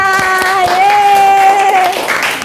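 A primary maths class claps together at the end of a lesson. Brisk clapping sits under a long, sustained sung-out cheer from the children that drops away near the end.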